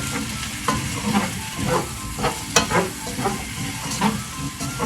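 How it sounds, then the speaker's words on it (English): Carrots being stirred in a cooking pot with olive oil for cauliflower maqlooba, giving a steady sizzle broken by repeated scraping strokes and soft clinks at close range, with no talking. "now I'm checking on it and I'm going to give it another stir"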